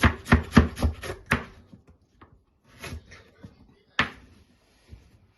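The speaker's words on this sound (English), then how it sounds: "So we just cut the beets and you cut it in small chunks" A knife chops beets into small chunks on a board, a quick run of sharp taps followed by a few scattered, sparser cuts and handling noises nearby.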